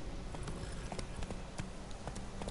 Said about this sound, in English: Geralt can always count on his horse, Roach, to help him in his travels.